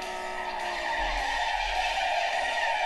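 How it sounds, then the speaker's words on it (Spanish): A car in the Android racing game Drift Horizon skids with a sustained tire squeal over a droning engine, loud and continuous throughout, with no talk. "Me gusta el sonido del coche, bastante real."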